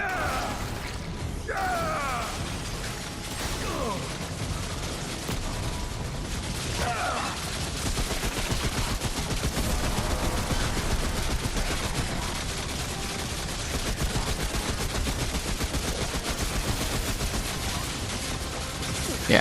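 Gunfire in Remnant: From The Ashes during a boss fight against Ixillis the Guardian of Corsus: a dense, continuous barrage of shots with mechanical clanks and a few sweeping effects, loud and sustained.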